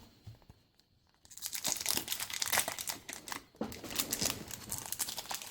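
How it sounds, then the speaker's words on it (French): Glued foil wrappers on Harry Potter movie trading card packs are torn open: after a second of near silence, a dense, close crinkling and ripping starts and continues steadily with brief dips. "Oui, on déchire tout."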